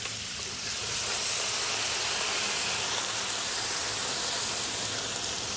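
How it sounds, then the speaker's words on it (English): A loud, steady sizzling hiss from a very hot pan as red wine is added to deglaze, continuing evenly throughout without any speech. "When you hear that sizzle, that means the pan is really, really hot."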